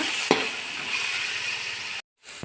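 Tomatoes frying and being stirred in a pan for Tulunada-style marwai pundi, giving a steady sizzling hiss with a couple of sharp utensil scrapes and a brief gap of silence.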